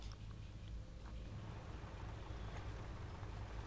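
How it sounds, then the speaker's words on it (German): A running combustion engine in the puzzle-adventure game The Cave gives a steady, low, rumbling idle. It holds an even, pulsing drone from start to finish, with no voices over it. "jetzt haben wir hier einen laufenden Verbrennungsmotor."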